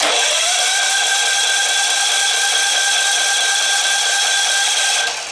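A gasoline generator that sat unused for two years, with fresh fuel and a good battery, cranks on half choke without firing: a loud, steady whirring drone that holds for about five seconds, then cuts off.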